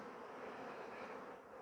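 Honey bees buzz steadily at a hive frame, a dense, continuous close-up drone of many insects with no pauses.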